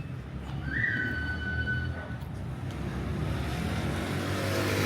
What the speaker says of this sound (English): That guy that's blowing the whistle